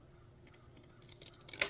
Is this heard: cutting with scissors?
yes